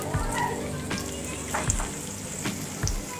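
Chopped onions fry in hot oil for chana chaat, a soft steady sizzle close by, broken now and then by faint clinks and stirring scrapes.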